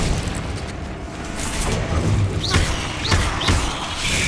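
Fiery spell blasts from Hogwarts Legacy, a few whooshing bursts with booming low impacts spaced about half a second apart over a dense, loud game soundscape.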